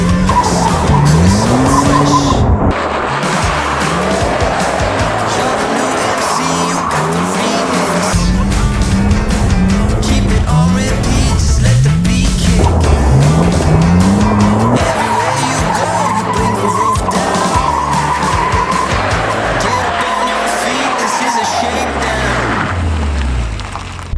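A BMW E46 M3 with traction control off spins its tires, the squeal rising and falling in repeated bursts over a hard-revving engine, loud and close throughout.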